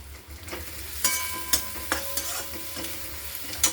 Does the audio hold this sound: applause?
no